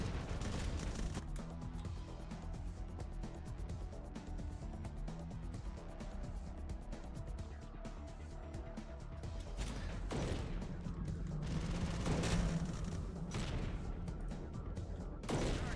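Recoilless rifles fire during a battle in the Terminator Dark Fate Defiance video game, a faint, continuous wash of gunfire and booms with a few louder bursts later on.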